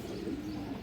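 Pigeons for sale, including red cocks, coo in a dense low murmur that runs steadily through the short moment, close and continuous with no voices.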